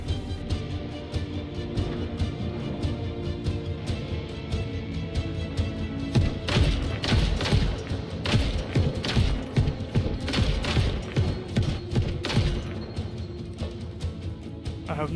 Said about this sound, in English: Seriously, what the hell is shooting me from behind?